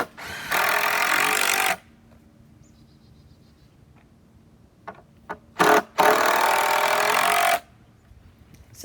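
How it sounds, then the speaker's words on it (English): Two sustained bursts of a power drill or driver sinking screws into a treated-wood frame for a raised garden bed, each running a second or more, loud and close, with a few short clicks and knocks between them. "So he secured all 4 sides, the screws, into the wood and made the frame."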